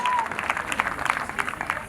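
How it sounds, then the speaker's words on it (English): Applause from parents and guests at a junior academy graduation ceremony, following a touching reception-class parent speech; steady, moderately loud clapping fills the clip, with a faint voice underneath. "A big round of applause for Ms. Shafina"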